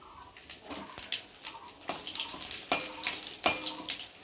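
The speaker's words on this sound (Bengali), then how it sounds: "আমি এখন ফোড়নটাকে ভালো করে ভেজে নেব" Bay leaves, whole cumin and dried red chillies crackle and sizzle in hot oil, with a steady hiss broken by scraping stirs and louder pops.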